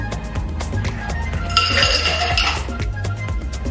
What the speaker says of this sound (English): we're gonna pour it into our Collins glass.